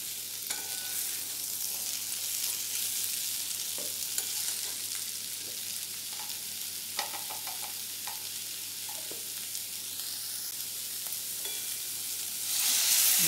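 Carrots and potatoes fry in a pan for a mixed vegetable curry, with a steady close sizzle and occasional stirring scrapes throughout and a louder hiss near the end, no talking.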